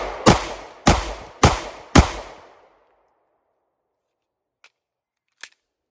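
A Walther PDP pistol loaded with a Canik TP9 SFX magazine fires four loud, evenly spaced shots, each ringing out briefly. Two faint sharp clicks follow after a pause.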